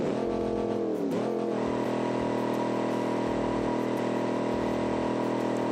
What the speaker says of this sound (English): It does do a standing burnout.